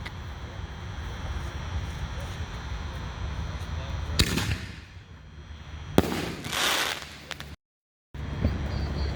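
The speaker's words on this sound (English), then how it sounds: "Okay, we got Black Rose by Super Fireworks, 5-inch canister shell, number 1." A Black Rose 5-inch canister firework shell by Super Fireworks goes off in two loud, sharp bursts a couple of seconds apart. Each burst carries a crackling tail over a steady outdoor rumble.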